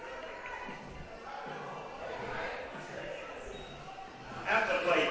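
A baseball crowd at a Portland Pickles vs Ridgefield Raptors game reacting to a deep fly ball to left field, a broad murmur and cheer rising and swelling toward the end, fairly distant and mixed with stadium noise.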